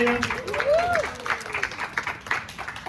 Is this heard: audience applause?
yes